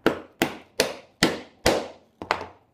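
Six sharp, evenly spaced blows of a mallet on a chisel, cleaning out a routed wood dado, each a close, hard knock with a short decay and the last one doubled, with no voices.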